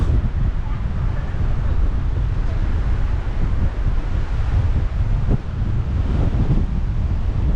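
Strong wind buffets the microphone on a hilltop in Valletta, Malta, a loud continuous low roar with gusty swells throughout, and brief voices faintly mixed in.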